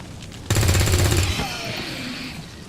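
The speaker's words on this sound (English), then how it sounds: "So actually what I'm going to do is I'm just going to shoot Jane right in the face." Gunfire in the tactical video game XCOM 2: a sudden loud burst of rapid shots lasting under a second, followed by a decaying rumble and a faint tail of effects.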